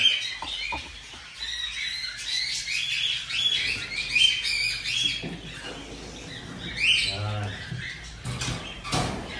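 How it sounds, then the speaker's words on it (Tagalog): Small birds in nesting boxes chirp and tweet in quick, high bursts at close range, with scratchy rustling and a low hum beneath them. "So ayan mga kaibon."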